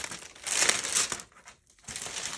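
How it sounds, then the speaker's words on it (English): Parchment paper is laid down for making book cloth, crinkling and rustling up close in a rising burst, briefly going quiet, then crinkling again. "now I am going to lay down some parchment"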